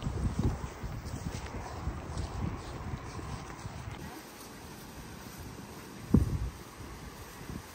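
Hooves of an event horse cantering outdoors on an equestrian hack, a steady rolling beat under wind noise on the microphone, with one louder thud near the end.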